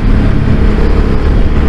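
A Honda CB300R motorcycle engine roars close and loud during a ride, a dense continuous growl with slight surges in pitch, wind rush mixed in.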